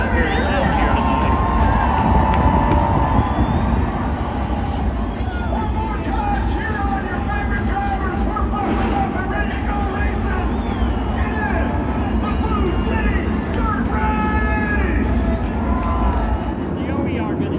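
Thin crowd at a half-full Bristol dirt track on a NASCAR night before the race, a steady wash of distant chatter and murmur with occasional faint cheers, broad and even throughout, with a commentator talking over it.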